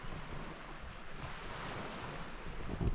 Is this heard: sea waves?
yes